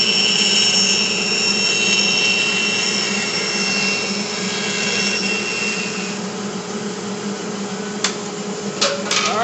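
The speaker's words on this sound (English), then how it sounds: "I'm going to head over to the bandsaw now, and I'm going to cut these stars out" A bandsaw cuts star shapes from wood, giving a loud, steady whine with a high-pitched screech that eases partway through, then a few sharp clicks near the end.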